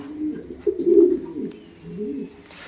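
A parrot from a breeder pair kept in a large cage gives soft, cooing calls, with a few brief higher chirps mixed in, close by and moderately loud.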